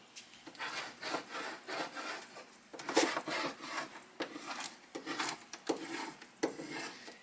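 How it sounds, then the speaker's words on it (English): A squeegee rubbed firmly back and forth over a sublimation transfer mask, producing a series of rhythmic dry scraping strokes, close and moderately loud, with no talk. "And I'm going to grab a squeegee."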